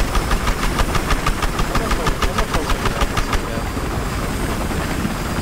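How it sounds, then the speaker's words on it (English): A helicopter in the video game Battlefield Hardline on the Dust Bowl map, with rapid rotor chop over a dense, loud engine roar that persists throughout, the blade pulses fading after a few seconds. "Their chopper is following us, so just watch out"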